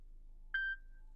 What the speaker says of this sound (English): It's going to beep indicating if we want to go ahead and activate the Android Auto.